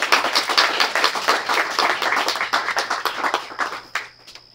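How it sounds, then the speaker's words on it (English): An audience at a storytelling night in a tap house claps for a storyteller, close, loud individual claps in a quick irregular patter that thins out and stops near the end. "Please give her a big round of applause."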